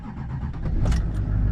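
A Duramax diesel truck engine cranks on its batteries after the glow plugs warm, a short grinding turnover that grows louder toward the end, heard close up.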